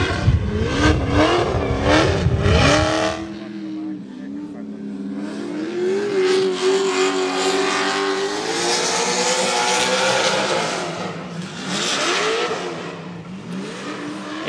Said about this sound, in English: Incredible sound, this American V8 in a German car made by HGK